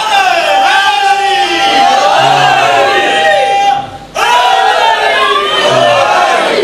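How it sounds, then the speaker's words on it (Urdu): A large crowd at a religious gathering in Lalamusa chants slogans in unison, loud rising and falling voices in repeated calls with a brief pause before the chant resumes. "یہ نعرے، یہ صدائیں در حقیقت ترانہ حیات ہیں"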